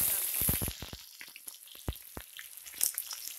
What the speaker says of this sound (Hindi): प्याज को अच्छे से भून दे देंगे